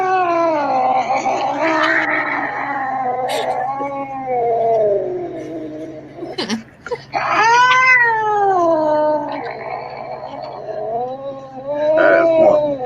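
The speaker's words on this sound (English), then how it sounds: "That is one pissed off cat." An angry cat yowls in long, wavering, rising-and-falling wails, loud and close, repeated several times with brief pauses between cries.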